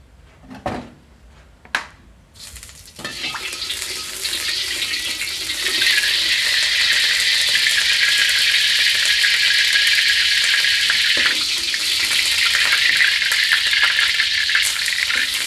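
Wide rice noodles with pork and shrimp stir-fry in oil, a steady loud sizzling hiss that runs on after a few sharp clanks of a utensil against the pan.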